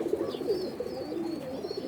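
A male Indian Kaldom pigeon gives a short run of soft, throaty coos, a few wavering notes close by and alone.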